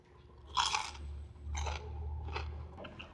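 Crispy fried chicken skin crunches loudly up close as it is bitten and chewed, several sharp crackling bursts spaced over a few seconds with no talking.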